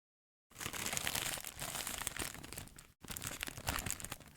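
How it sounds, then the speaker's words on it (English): A very smelly plastic package with a resealable zipper is crinkled and handled up close, a dense, continuous rustle with a brief pause before the crackling resumes. "something in a very smelly plastic bag with a very fancy zipper."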